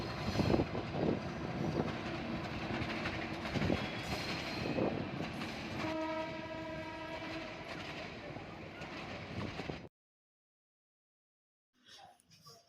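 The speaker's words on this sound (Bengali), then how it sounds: "দেখছি ট্রেন চলে যাচ্ছে।" A train rumbles past at close range with clattering wheels, and a loud sustained horn blares over it midway. The sound then cuts to silence, followed by a faint brief noise at the end.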